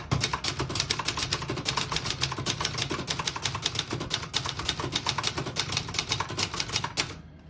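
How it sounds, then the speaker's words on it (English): Keys striking paper on a 1972 Brother Charger 11 portable typewriter made in Japan, a fast, even run of crisp, close clacks typing a sentence, stopping abruptly at the end. "I'll type a sentence on the next line."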